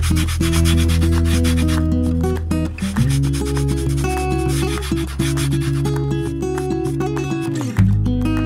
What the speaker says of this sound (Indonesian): kemudian amplas bagian cekung airfoil bawah.